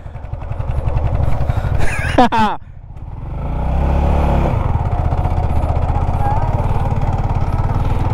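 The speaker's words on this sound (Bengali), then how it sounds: "এ বালুর ভিতরে বাইক নিয়ে হাঁটতেছি হাঁটতেছি।" A motorcycle is walked through sand with its engine running, a close, steady chugging idle that swells louder partway through, with someone speaking briefly early on.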